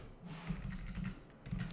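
Soft, quick keystrokes on a computer keyboard, a short run of light clicks at low level, with no one talking.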